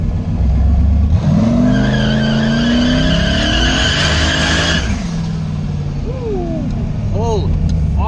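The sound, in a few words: car coming down the road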